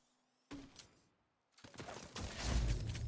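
Gunfire in The Division 2 sniper-build combat: a short sharp burst of shots, a pause, then a louder, denser volley of rapid fire with heavy low booms, fairly close and without talk.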